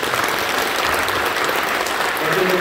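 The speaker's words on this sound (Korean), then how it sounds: "박수 한번" Applause from a church congregation at an early-morning Holy Week prayer service, steady dense clapping filling the room from start to finish.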